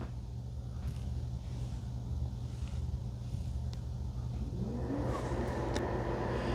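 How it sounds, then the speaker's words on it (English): A constant low mechanical whir of blowing air from an ECOVACS DEEBOT X2 Omni robot vacuum station's hot air drying, with a fan-like hum that gains a rising tone toward the end. "there's how that sounds. That's the hot air drying."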